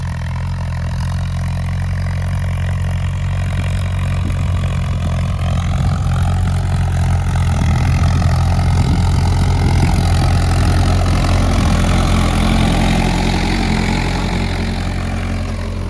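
A tractor engine runs loud and steady close by, pulling a weeding attachment through a cotton field, a continuous low rumble that swells slightly midway with no voices.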